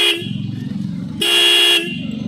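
A Minda K95 horn fitted to a Royal Enfield Classic 350 motorcycle, two loud close honks, one short and one longer, with engine idle rumbling between them.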